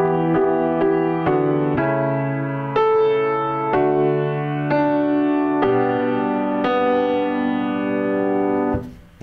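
A slow run through the first two measures of a song on piano, about a dozen clear chord and note strikes in an even, unhurried rhythm, each ringing out loudly with nobody speaking.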